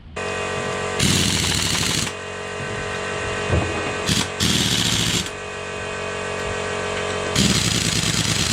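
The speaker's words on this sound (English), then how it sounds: "Do them up with a cordless." Cordless power tool driving bolts into a front hub during a solid axle conversion, with loud repeated rattling bursts separated by quieter pauses.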